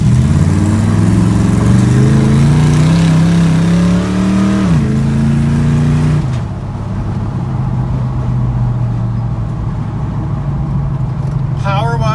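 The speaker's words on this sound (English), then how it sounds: "We're only idling at about 500 when it's in gear" A 1977 Chevy C10 pickup's 400 hp V8 rumbles steadily at low idle in gear, about 500 rpm, with a brief rise and fall in pitch early on, and a voice talking over the running motor.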